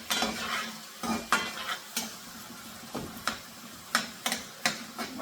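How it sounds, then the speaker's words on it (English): Pimientos rojos and olives sizzle in a smoking pan for rice with beans while a utensil stirs and scrapes, giving a steady close fry hiss broken by sharp clicks and knocks against the metal. "now that that's sizzling and you can see all the smoke coming up"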